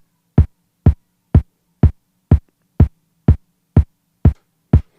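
Muffled kick drum sampled from vinyl, sequenced on an Akai MPC2000XL at 124 BPM in a lo-fi techno four-bar loop: ten evenly spaced deep thumps, one on every beat, loud and alone over a faint low hum.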